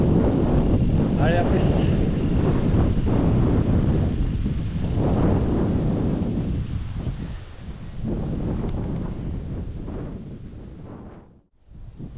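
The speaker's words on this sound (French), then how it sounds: "Bon, ok, vent du sud, ça rafale un peu." Gusty south wind buffets the microphone in a steady loud roar with surges and brief lulls, heard outdoors on an electric mountain bike ride near Lesaka; someone speaks briefly.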